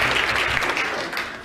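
Audience members at a community band benefit concert applaud a euphonium player, giving a short burst of dense clapping that holds steady and then eases slightly.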